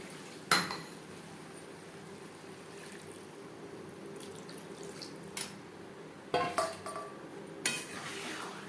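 A spoon stirring potato and chicken curry with gravy in a pan, giving quiet scrapes and a few sharp metallic clinks against the pan over a faint kitchen background.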